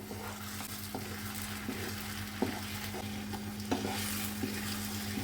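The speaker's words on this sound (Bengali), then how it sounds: "এখন আমরা শুধু এভাবে পাল্টে পাল্টে নাড়ব, কুড়ে কুড়ে নাড়ব।" Rava kesari halwa, a semolina sweet, is stirred and scraped around a pan while it sizzles softly, with steady spatula strokes and a few sharper scrapes against the metal.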